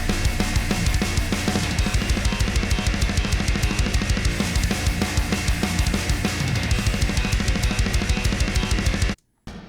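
Drum samples in a metal mix hammer out a dense, rapid blast beat. Fast kick, snare and cymbal hits run continuously and loudly for about nine seconds, then stop abruptly with a brief silence.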